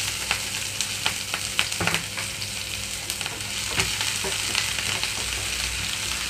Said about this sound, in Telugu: ఉల్లిపాయలు ఇక్కడ సాఫ్ట్ కలర్కి వచ్చే వరకు వేయించుకుంటున్నాను.